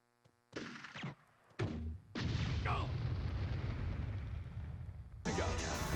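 Gunfire and explosions in the video game Army Men: Sarge's Heroes, a few heavy booming blasts in quick succession followed by a sustained roar of rumbling noise, loud against the game's background sound.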